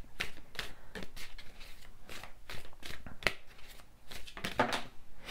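Tarot cards being shuffled by hand close up, a series of quick riffling and snapping bursts in an uneven rhythm, fairly quiet with no talking.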